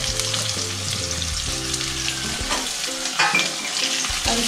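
Onion, garlic, bay leaf and green chilli sizzle steadily in hot oil in a pan as a tempering for rajma, with a continuous crackling fry and occasional stirring scrapes, no voices.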